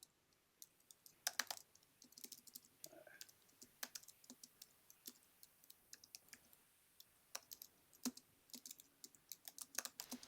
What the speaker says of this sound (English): Oh, sorry, I'm just typing.